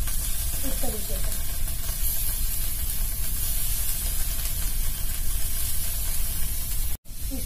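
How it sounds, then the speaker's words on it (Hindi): Cut paneer pieces fry on a tawa, giving a steady, loud hiss and sizzle that runs almost unbroken, with a brief dropout near the end. "पनीर काट के रखी हूँ हल्का हल्का इसको भी मैं फ्राई कर लूंगी इस तरीके से"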